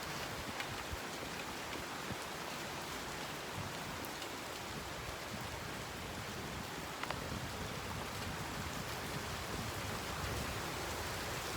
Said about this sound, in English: I'm just going to move myself out of the rain